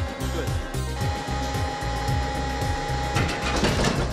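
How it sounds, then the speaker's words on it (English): A crank-driven sawmill cuts a log into boards with a loud, steady mechanical drone and a regular pulsing rhythm of repeated strokes, continuous throughout. "Using this principle, a log can be cut into boards in approximately 5 minutes."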